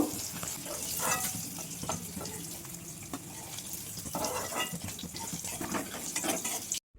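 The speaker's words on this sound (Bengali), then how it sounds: "একদিকটা উল্টিয়ে দিয়েছি আমি, ভাজা হয়ে গেছে, তুলে নেব।" Soft paneer fries in oil in a pan, giving a steady, close sizzle with occasional crackles for several seconds before it cuts off abruptly, with no talking over it.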